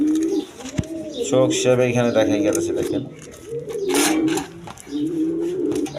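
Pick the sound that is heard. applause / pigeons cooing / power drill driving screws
pigeons cooing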